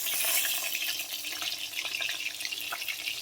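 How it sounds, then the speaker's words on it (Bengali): Fish slides into hot oil and fries with a bright, watery hiss and scattered spitting pops, moderately close and continuous, with no talk over it. "দেখো হয়ে গেছে, মাছটা আমি নামিয়ে দিচ্ছি।"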